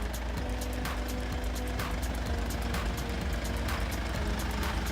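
A 2018 Mercedes C250d coupe diesel engine idles while reversing, a steady loud low rumble with a pulsing rhythm and no voices over it.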